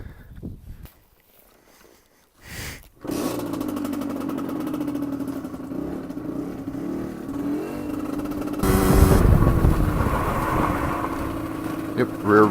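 A Rieju RRX motorcycle engine starts and runs close up, settling into a steady idle before revving louder toward the end, with brief wind and handling noise early on.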